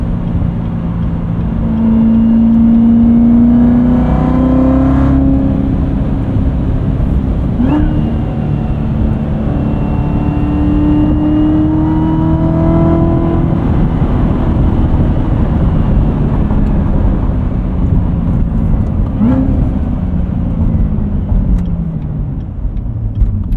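Supercharged 2019 Chevrolet Corvette Z06 with a seven-speed manual, engine droning steadily from inside the cabin while driving at night, a low loud hum with rising and falling pitch as revs change, no talking.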